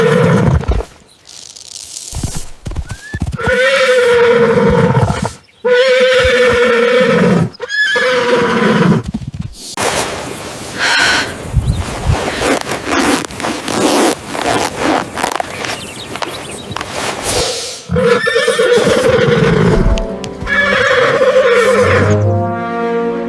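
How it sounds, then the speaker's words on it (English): A white horse neighs and whinnies in distress while being attacked by a giant python, loud repeated whinnies with scraping and rustling struggle noises between them. "My horse is being attacked by a python!"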